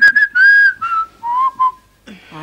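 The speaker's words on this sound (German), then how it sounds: "ich höre ja schon auf zu pfeifen." A person whistling a short melody up close, clear bright notes in several phrases sliding from higher to lower pitch, followed by a brief rustle.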